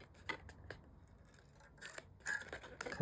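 Scissors snipping through decorative paper while making a cracker, a few sharp close cuts in quick bursts separated by quiet pauses.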